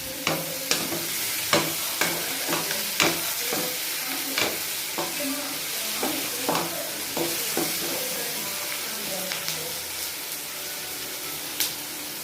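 Tamarind chutney bubbles in a frying pan while a spatula stirs it, a series of sharp scrapes and clacks against the pan over a continuous sizzle.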